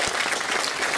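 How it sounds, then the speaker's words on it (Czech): A cinema audience applauds, a dense burst of many hands clapping together at a steady, even loudness for about a second with no voices over it. "Dámy a pánové, zatleskejte"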